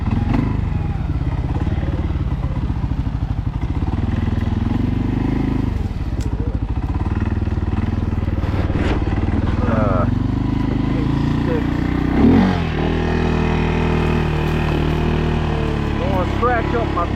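A 2025 CFmoto CForce 600 ATV fitted with an RNG full clutch kit roars steadily through a short wheelie, the engine loud and close with clattering and crackle and a brief surge near the end, while a rider talks over it.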